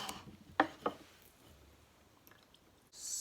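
A lemon chopped on a board during home drink preparation, heard as two quick, soft knife strikes followed by quiet background and a faint hiss toward the end.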